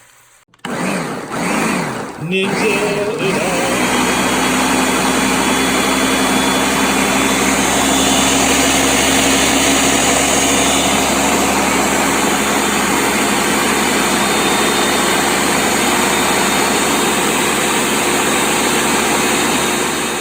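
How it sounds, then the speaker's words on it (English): A blender purees vegetable sauce for ratatouille, starting with a few short bursts and then roaring loudly and steadily at full speed with no pauses. "All right, we got our sauce blended up."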